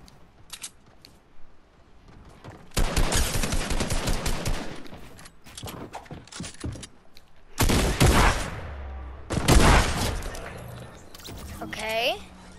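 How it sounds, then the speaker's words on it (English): A new shotgun in Fortnite fires in loud, close blasts amid a burst of rapid gunfire, then two heavier shots stand out near the end, with scattered game sounds between. "Is this the new shotgun?"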